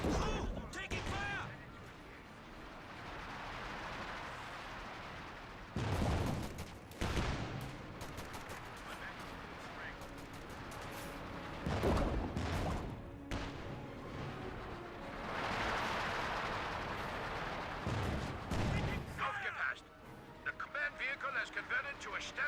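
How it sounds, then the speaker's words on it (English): Pack howitzer artillery in Company of Heroes 2 fires in repeated heavy booms amid ongoing battle noise and scattered gunfire, with a commentator talking over much of the action. "Pack howitzer firing away."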